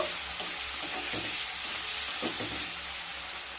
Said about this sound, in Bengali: এবার টমেটোটাকে খুব সুন্দরভাবে মিশিয়ে নেব